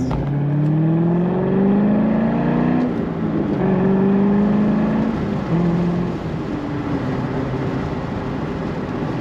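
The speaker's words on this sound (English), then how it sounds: "Nice throaty exhaust note from this car." A 2005 Chevrolet Corvette Convertible revs hard and climbs through the gears with a deep, throaty exhaust note, loud and close, pitch rising then dropping at each shift.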